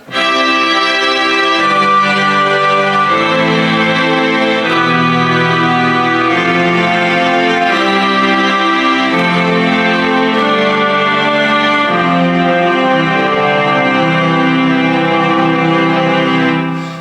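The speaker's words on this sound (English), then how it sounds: "You can get some fantastic string sounds like this theatre string" Lush sustained theatre-string chords played on a Yamaha CSP-275 digital piano, moving through a slow progression with smooth, continuous swells and no pauses.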